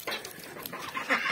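Chickens clucking and squawking close by, a busy flock with overlapping calls and no talking.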